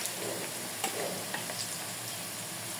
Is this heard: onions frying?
yes